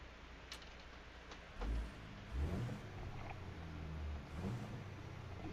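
Engine of a big rig in American Truck Simulator rumbles steadily in the background, with a couple of low, heavier surges that sound like revving or gear changes.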